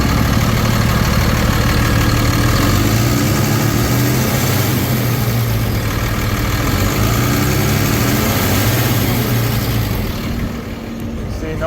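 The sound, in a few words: 2013 Ford F-750 bucket truck engine idling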